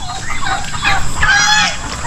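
Loud, harsh turkey calls from nearby poultry, a rapid gobbling burst rising in the second half over a noisy outdoor background.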